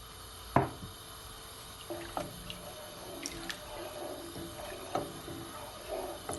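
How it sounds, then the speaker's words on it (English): Pineapple juice is poured over a glazed ham, giving faint, close liquid trickles and small splashes that come in soft intermittent bursts, with no talking. "And my pineapple juice. Gonna add it all."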